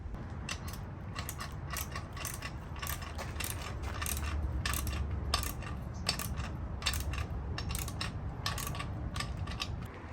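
Bolts and nuts being tightened to mount a light on a third-generation Toyota Tacoma, heard as dense, irregular metallic clicking and ratcheting over a steady background rumble, close by and with no talk.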